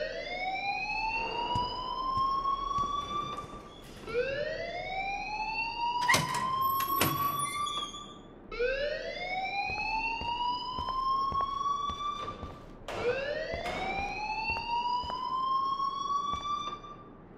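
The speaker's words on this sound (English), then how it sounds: "please turn off that alarm since that's your job" A fire alarm rings in the video game Life Is Strange, a loud rising electronic whoop repeating about every four seconds, with sharp clicks and beeps cutting in between cycles.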